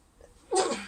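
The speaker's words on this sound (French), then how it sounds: "le soleil me fait éternuer" A single short sneeze, sharp and close, after a moment of near silence.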